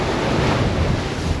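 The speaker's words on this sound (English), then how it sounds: "it's pretty wild and windy out here tonight" Strong wind and crashing waves aboard a racing yacht at sea at night in a gale, a steady loud roar of wind buffeting the microphone over the rushing water, with no voices.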